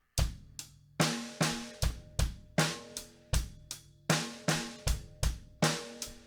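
A steady drum kit groove with bass drum thumps and crisp snare hits, including quick double hits, repeating at a moderate tempo with no talking.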